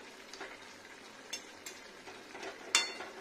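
Ridge gourd and potato pieces fry in a pan over high heat, with a faint, soft sizzle broken by a few light stirring scrapes and clinks of the utensil.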